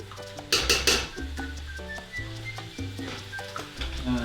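Italian vegetable soup stirred in a pot, giving a burst of metallic clatter early on and then soft scraping and clinking in a loose rhythm over a steady low hum.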